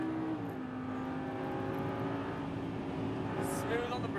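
Exotic car accelerating hard on a Las Vegas race track, a steady engine drone with rising tonal harmonics held loud and close throughout, under cabin noise.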